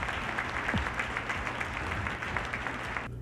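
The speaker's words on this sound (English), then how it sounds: "Let's give our panelists another round of applause." Applause from an audience for the panelists after a program on water issues and irrigation. Steady clapping from many hands goes on at moderate volume, then cuts off abruptly at the very end.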